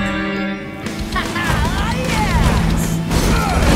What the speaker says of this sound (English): Smashing old junk and we're gonna win?